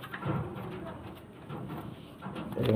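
Pigeons coo softly in a low, burbling murmur at a home pigeon loft, faint and close, with a brief louder flutter near the end.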